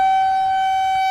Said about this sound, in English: Tornado sirens wailed as the derecho blew through